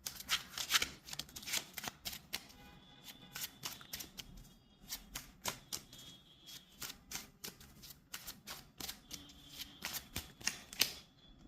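Tarot cards are shuffled and drawn, giving irregular bursts of crisp riffling and flicking taps close by over a quiet background.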